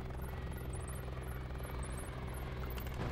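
A jet-like aircraft in the War Tycoon video game drones steadily and loudly throughout, a continuous engine roar with no talking over it.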